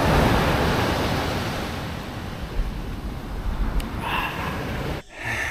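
Surf rolling onto a sunny beach lined with sunbeds, a steady broadband wash that swells and eases continuously, with a brief faint clatter near the end.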